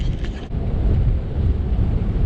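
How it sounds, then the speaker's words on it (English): Heavy, rumbling wind buffets a microphone outdoors near a construction shop, with a low roar and gusty surges continuing throughout and no talking. "it is crazy windy right now"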